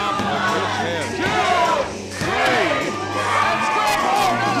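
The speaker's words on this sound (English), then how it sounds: "this crowd is absolutely eating it up" Wrestling crowd at a Gold Dragon Wrestling show cheering and yelling loudly, a dense roar of many voices with rising shouts, swelling and dipping briefly before surging again.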